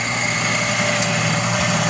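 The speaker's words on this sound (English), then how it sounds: "Got good, strong engine on it." A tractor engine with a good, strong motor runs steadily, a loud, even droning hum close by with constant vibration and no change in pitch or voices.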